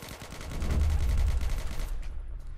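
Rapid automatic gunfire from a first-person shooter match in Operation Scorpion, a dense burst of shots with heavy low-end thump that cuts off near the end, leaving a quieter tail.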